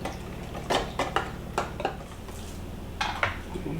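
Ingredients for a marinade for Cuban-style inside skirt steak are stirred in a bowl, giving a series of close, irregular clinks and scrapes of utensil against the bowl with soft liquid sloshing between them.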